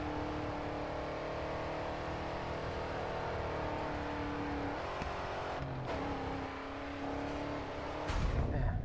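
Race car engines drone steadily during a short sprint race in GRID 2, a sustained high whine with gear-shift dips and a louder surge at the end.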